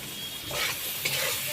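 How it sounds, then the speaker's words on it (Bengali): Greens tossed into a hot pan with fried potatoes and shrimp sizzle steadily, with stirring scrapes rising over the continuous frying hiss at close range. "আর এই এখন শাকগুলো দিয়ে দেবো একটু ভাজা ভাজা হয়েছে"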